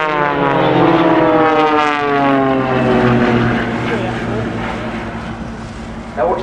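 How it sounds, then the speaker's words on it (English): The Blades aerobatic team's propeller aircraft fly back toward the crowd at the Farnborough International Airshow 2012, a loud, steady engine drone with shifting pitch as they approach, continuous throughout with a brief rise at the end. "the blades are going to fly back towards us for the swan break"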